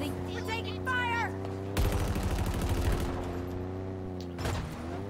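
Rapid automatic gunfire in the shooter Halo Infinite, a loud rattling burst lasting about a second over a steady humming game background, with a shorter burst near the end.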